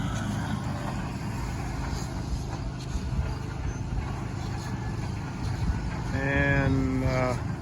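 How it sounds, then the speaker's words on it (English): A skid loader engine running steadily on a farm field during sorghum-sudangrass baling, a continuous mid-distance rumble throughout, with a brief tonal whine near the end. "It's my brother in the skid loader."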